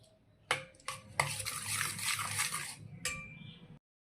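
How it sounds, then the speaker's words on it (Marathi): Spoon stirring and beating soaked semolina (rava) in a metal vessel, a few close clinks and scrapes giving way to a continuous busy mix of scraping and sloshing, then a final clink. "रवा आता आपल्याला चमच्याच्या साहाय्याने चांगला असा फेटून घ्यायचा आहे, एकजीव करून घ्यायचा आहे"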